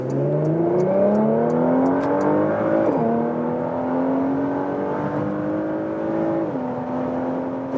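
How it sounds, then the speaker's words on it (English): A 2022 Porsche Macan GTS in Sport Plus accelerates hard on the Autobahn, its exhaust roaring as the revs climb through two quick upshifts, loud and close from inside the car. "Whoa, that exhaust goes nuts already right now."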